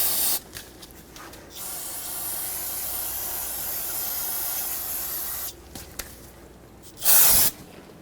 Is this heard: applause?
no